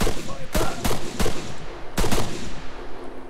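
Gunfire from AI enemies in Arma 3: several loud, sharp rifle cracks, some doubled in quick succession, spread over a few seconds with brief gaps and a faint steady hum beneath.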